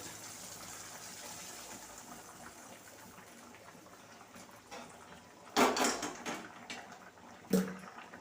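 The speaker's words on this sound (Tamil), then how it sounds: "பக்கத்து அடுப்பில் சாம்பார் கொதிச்சுக்கிட்டு இருக்காங்க பாருங்கள் இப்போ நம்ம ஊற்றிக்கிறோம்" Liquid is poured into a pot of sambar boiling on a stove. A low steady bubbling hiss carries through, then a sudden loud splashing gush and a few clanks of the vessel follow, with one more sharp knock near the end.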